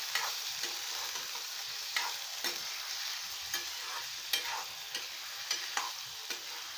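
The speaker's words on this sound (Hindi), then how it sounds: "अच्छे से आलू को भी हम अभी फ्राई कर लेंगे" Potatoes frying in oil over a medium flame for egg bhurji, with a steady broadband sizzle and a series of sharp spatula scrapes and clinks against the pan at irregular intervals, close and alone without talk.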